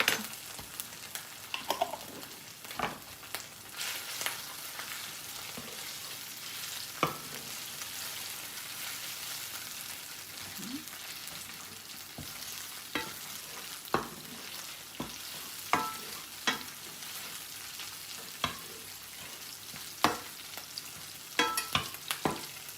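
Sun-dried tomatoes cook in a pan with a continuous soft sizzle, broken by scattered sharp clicks and taps of stirring, close by and with no voices, steady throughout.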